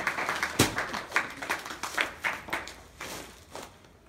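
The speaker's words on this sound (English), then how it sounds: "we'll clap for you" An audience claps in a fairly regular rhythm of distinct hand claps, moderately near and modest in volume, fading slightly toward the end.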